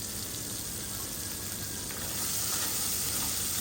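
Meat and ground black pepper fry in hot oil for chow mein, giving a dense, continuous sizzle that swells slightly toward the end, with no talking.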